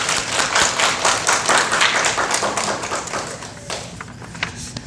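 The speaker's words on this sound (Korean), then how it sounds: "우리 수고하신 우리 장로님, 권사님께 우리 격려의 박수 드리겠습니다." Church congregation during Sunday worship giving encouraging applause to elders, a loud, dense burst of close hand-clapping that stays thick for about three seconds and then tapers into a few scattered claps.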